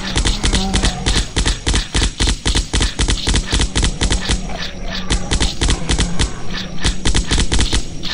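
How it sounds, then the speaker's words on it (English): Rapid, sustained automatic fire from an assault rifle in the Zombocalypse flash game, with dense, evenly spaced shots pounding loudly and continuously with no pauses. "Assault rifle."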